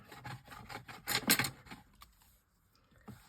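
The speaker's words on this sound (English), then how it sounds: "To get it off the mat, just do a quick scrape and it comes up really well." Leftover gilding gum is scraped off a craft mat in a few quick, quiet rasping strokes, the densest scrape in the middle, then faint scratchy touches.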